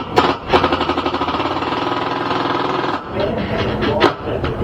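A power drill drives screws while a Larson 32-inch Savannah storm door is installed, giving a loud, rapid rattling buzz for about three seconds before it eases into a lower whir, close by and with some talk over it.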